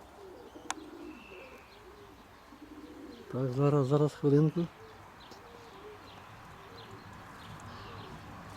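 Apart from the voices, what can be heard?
pigeons cooing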